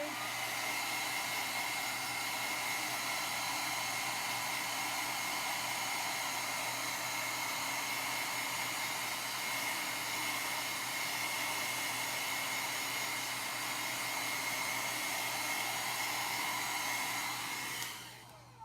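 A heat tool blows steadily to dry chalk paste on a Halloween spell book craft project, a loud continuous whirring hiss holding for about eighteen seconds before cutting off at the end.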